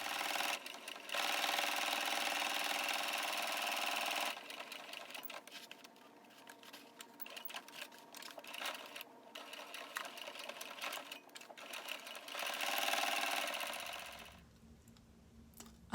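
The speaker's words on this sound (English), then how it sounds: "The next thing I'll be doing is to sew top stitch round." A sewing machine top stitching around a fabric envelope pouch, a steady close whirring stitch that runs continuously, briefly stops and restarts, then winds down near the end.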